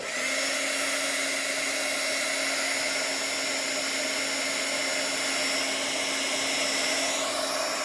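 A hair dryer blows on wet paint on a collage, giving a loud, steady whirring roar with a constant motor whine that runs unbroken for the whole stretch, with no talking.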